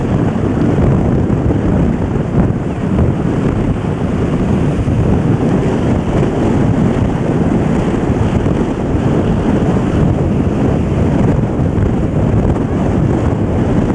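Strong wind gusts roar steadily across the microphone on an Indian Ocean beach, with surf washing underneath in a constant, loud, unbroken rush throughout.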